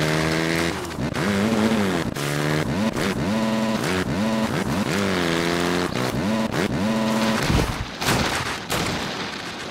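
Dirt bike engines in the motocross video game MX vs ATV Reflex, buzzing and revving up and down in repeated rising and falling pitch sweeps, loud and continuous with several bikes racing together.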